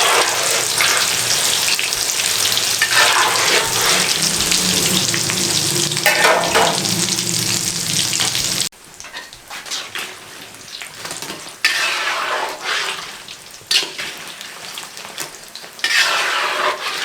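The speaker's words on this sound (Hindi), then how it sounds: "अब मैं ये दूसरे जो है ना ये भी फ्राई कर लूँ।" Aloo samosas deep-frying in oil over a moderate flame, a dense, loud, continuous sizzle and crackle that drops to a softer, patchier bubbling partway through.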